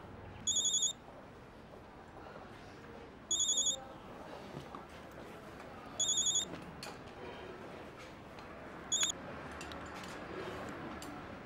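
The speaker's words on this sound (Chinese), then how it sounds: "电话， 电话。" A telephone ringing four times in short electronic trilling bursts spaced a few seconds apart, faint and clear against a quiet room background.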